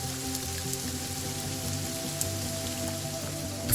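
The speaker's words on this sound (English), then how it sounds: "when it rained, it was an unceasing downpour" A monsoon downpour falls on a forest as a dense, unbroken hiss of rain, with heavy drops spattering on leaves and surfaces throughout and no voices.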